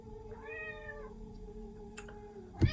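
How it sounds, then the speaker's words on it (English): A house cat gives one drawn-out meow, close and moderately soft, followed by a couple of small clicks and taps in an otherwise quiet room. "That's my cat, by the way."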